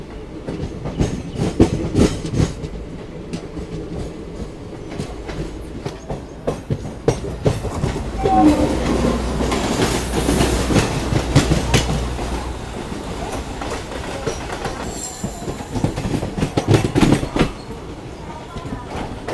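Special train arriving at Katpadi Junction, with loud rumbling wheels and rhythmic clickety-clack on the rails, rising and easing as carriages pass close by, with voices talking in the background.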